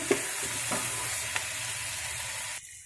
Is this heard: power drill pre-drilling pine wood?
no